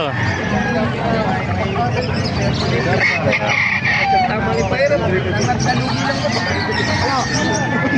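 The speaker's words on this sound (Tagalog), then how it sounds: "Mga manok dito sa Kalumpit." Roosters crow and chickens cluck amid a busy hubbub of voices and crowd babble at an animal market in Calumpit, with occasional traffic in the background.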